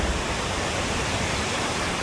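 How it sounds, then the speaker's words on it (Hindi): Jalbire waterfall near Pokhara, Nepal, pours in a dense, steady roar of falling water, loud and close with no break. "आप देखो, एक फॉल ऊपर से हो रहा है, मेरे पीछे आपको दिख पा रहा होगा"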